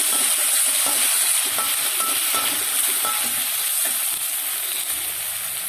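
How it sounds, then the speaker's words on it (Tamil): Chopped tomato sizzling in hot oil with ginger garlic paste in a pan while cooking mutton kothu kari, a steady close frying hiss with occasional stirring scrapes, no talking. "ஒரே ஒரு தக்காளி பொடியை கட் பண்ணியிருக்கேன், கொஞ்சம் நல்லா வதக்கிக்கலாம்"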